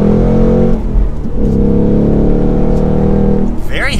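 A 2021-2022 Ford Mustang Mach 1 V8 engine revving and pulling, a loud, dense exhaust drone rising and falling in pitch, heard from inside the car.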